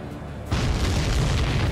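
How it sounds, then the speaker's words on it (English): A sudden deep boom from an explosion in Ace Combat 7 erupts after a brief quiet moment, followed by a sustained rumbling roar that stays loud to the end. "Did you see that explosion?"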